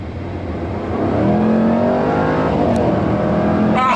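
A 2019 Jaguar F-Pace SVR engine revs hard under full throttle, its pitch climbing steadily as it accelerates, loud and close.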